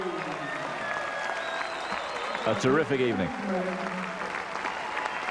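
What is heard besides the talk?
audience applause at ballroom dance championship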